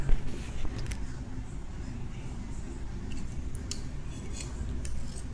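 Scissors snip through layered saree fabric while a lehenga saree is being cut, a few crisp blade clicks over a steady low background hum, fairly close.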